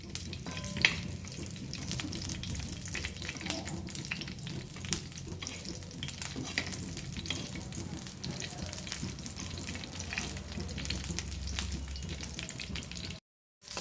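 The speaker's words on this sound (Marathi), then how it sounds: "हे जराशा परतून घ्यायच्यात आपण" Ingredients being sautéed in a pan give off a steady broadband sizzle with occasional stirring scrapes, loud and continuous throughout with no talk, before a brief cut of silence near the end.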